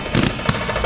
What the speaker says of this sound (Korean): 강한 스파크와 함께 전선이 터지고 말았습니다